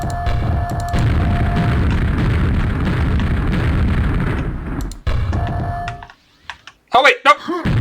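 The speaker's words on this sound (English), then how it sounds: "We want to like throw a bunch of grenades." Grenade blasts in the 1996 Call of Duty game build into a loud, continuous rumbling roar of repeated explosions for about five seconds, then cut off, followed by a few short bursts and distorted voice-like sounds.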